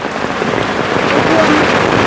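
Rain falls steadily, a loud, dense and unbroken hiss of drops on surfaces close by, with no break throughout.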